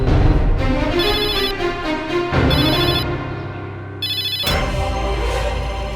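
A mobile phone rings inside a temple, a looping electronic ringtone with bright repeating tones that stops and restarts, playing loudly over a musical backdrop with no talking.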